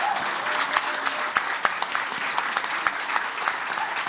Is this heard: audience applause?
yes